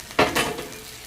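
Fried pointed gourd drops into a pan of fried onions with a short double clatter and a brief swell of sizzling that quickly fades.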